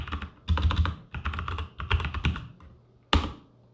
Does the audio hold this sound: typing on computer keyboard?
yes